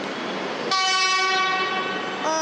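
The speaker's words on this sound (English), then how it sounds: "we have a Flemington shuttle coming now" A Metro Melbourne Flemington shuttle train arrives at a station on a Melbourne Cup race day, its loud, steady horn tone sounding close and sustained after a rumble of approach, alone with no talk.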